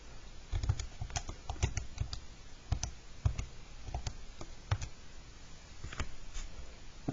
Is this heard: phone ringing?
no